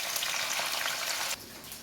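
Tofu sizzles and fries in a pan, giving a dense, steady crackle that drops suddenly to a softer hiss partway through, with no voices.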